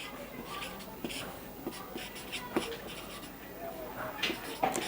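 A pen scratches out numbers for an age calculation, with short strokes and taps in an irregular rhythm. A voice talks quietly alongside the writing.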